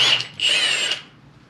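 A Milwaukee impact wrench removes cylinder head bolts from an IH 484 tractor engine. It gives a short, close, loud whirring burst that dips briefly, rises again and then fades out, with no talk.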